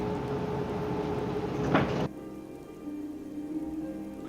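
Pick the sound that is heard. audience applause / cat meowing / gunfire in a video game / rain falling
rain falling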